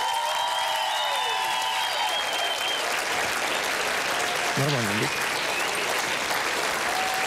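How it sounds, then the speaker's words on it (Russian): A TV studio audience gives steady, loud applause that runs under the whole stretch, with music tones at first and brief talk from people on stage partway through. "Итак, ваши аплодисменты."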